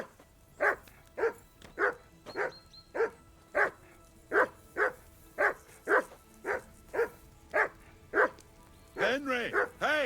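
A dog in Kingdom Come Deliverance II barks steadily and loudly, about a dozen evenly spaced barks close by, ending in a rising, whining yelp-like cry.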